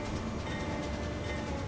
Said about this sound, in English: here's our new train coming in here